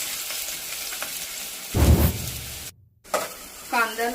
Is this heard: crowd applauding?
no